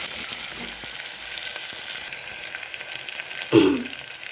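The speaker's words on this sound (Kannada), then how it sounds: "ಈರುಳ್ಳಿಯನ್ನು ಸೇರಿಸಿ ಈರುಳ್ಳಿ ಸ್ವಲ್ಪ ಟ್ರಾನ್ಸ್ಪರೆಂಟ್ ಆಗೋವರೆಗೂ ಇದನ್ನು ಉರಿಯಿಸಿ" Onions sizzle steadily in oil in a pan while cooking a spiced vermicelli breakfast dish, a close, constant hiss with one brief clatter of a utensil near the end.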